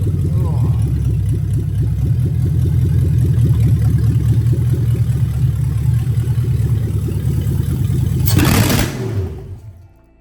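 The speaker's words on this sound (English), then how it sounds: "let me just quickly run the fuel out quickly" A Toyota 3UZ-FE V8 engine runs loud and steady at a rumbling idle, close by, for most of the stretch. Near the end it sputters briefly as it runs out of fuel, then falls silent.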